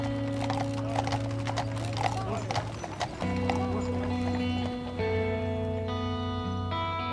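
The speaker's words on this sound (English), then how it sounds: "the family transfer Mikey to a horse-drawn carriage" Horse hooves clip-clop steadily on a road blocked off for a traveller family's funeral procession, with a horse-drawn carriage carrying the coffin toward the cemetery; the hoofbeats sit under droning music or tones throughout.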